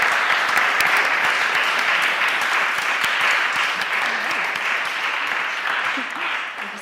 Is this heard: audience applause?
yes